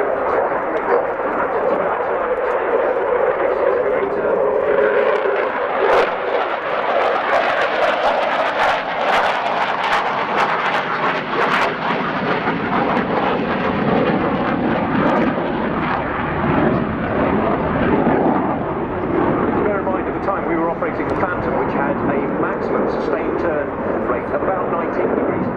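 A Ukrainian Air Force Sukhoi Su-27 fighter jet roars through an air show display at RIAT 2018, a sustained, powerful jet rumble rising and falling as it passes, with a voice talking over it.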